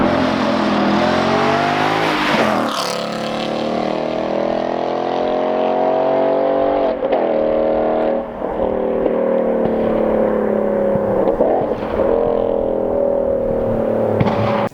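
Ford Mustang GT 2016 Performance Pack with a 5-liter Coyote V8 and performance exhaust, rumbling steadily and loudly throughout with a rising rev near the start and a few brief dips, no talking.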